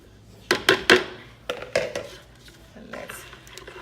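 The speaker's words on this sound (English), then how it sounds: "And let's give it a stir." Spoon scraping and clinking against a pot while stirring a melting coconut soap mixture, a few sharp knocks in quick succession followed by softer scrapes and taps, close and fairly quiet.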